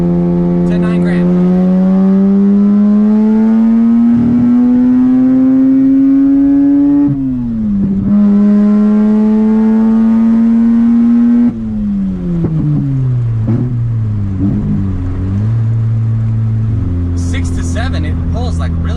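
Stock Mazda RX-8 rotary engine revving loud and close from 5,500 to 9,000 rpm, its buzzy pitch climbing steadily, dipping briefly, climbing again, then falling away and settling.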